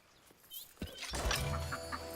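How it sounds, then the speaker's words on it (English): Ducks in the Soulframe game give a few short, quiet quacks and clucks, scattered over a faint background. "More ducks."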